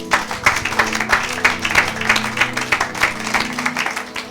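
Congregation applauding together in a church, a dense, steady wash of many hands clapping at close range, with voices faintly mixed into the clapping.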